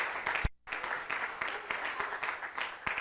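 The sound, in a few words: applause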